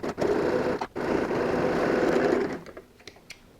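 A sewing machine stitching the side of a fabric laptop case, a steady close whirring run with a brief pause, then the motor stops, leaving a few light clicks and handling sounds.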